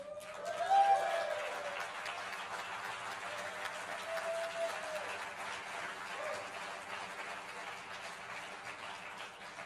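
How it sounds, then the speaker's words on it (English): Audience applause fills an auditorium at a talk event, a steady mid-level patter of many hands with a faint tonal sound under it, swelling near the start and easing off toward the end. "applause."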